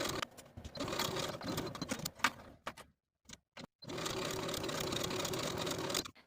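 A sewing machine stitches the side seam of a silk dress with a 5/8 inch seam allowance, running steadily in a dense whir, stopping briefly with a few short bursts, then running again steadily to the end.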